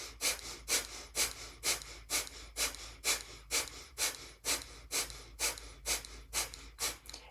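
Breath of fire is performed during a yoga class as a series of rhythmic, forceful nasal exhalations, about two per second, loud and close, with no talking.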